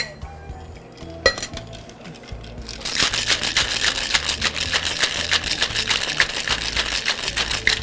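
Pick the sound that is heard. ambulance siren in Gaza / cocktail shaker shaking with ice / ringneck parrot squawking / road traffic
cocktail shaker shaking with ice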